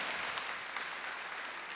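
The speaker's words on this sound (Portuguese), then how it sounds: "depois você aplaude" Brief, steady wash of crowd applause from a congregation at a Catholic preaching event, dense and even, fairly quiet, with no speech over it.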